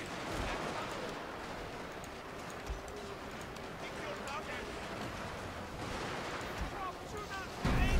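Artillery suppression fire in a Total War battle at Osaka Castle, a continuous rumbling barrage with scattered distant blasts and a heavier impact near the end, all under steady battlefield noise and a talking voice.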